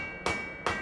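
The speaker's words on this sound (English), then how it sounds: "The characteristic noise you can hear, that little bang, shows that the material welds." Two quick hammer blows on iron being forge welded, each a short, sharp bang with a faint metallic ring, close and moderately loud.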